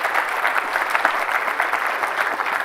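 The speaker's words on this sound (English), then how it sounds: "Give everyone a round of applause." An audience at a PyTorch technical conference keynote claps steadily throughout, a brief, even burst of applause filling the room.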